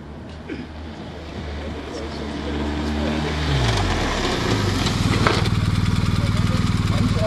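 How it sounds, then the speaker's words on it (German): A motorcycle engine idles and then revs up at the start of a braking demonstration, its steady drone rising in pitch and level, with a crowd noise in the background. "Wir werden eine Bremsvorführung oder besser gesagt einen Bremsvergleich durchführen."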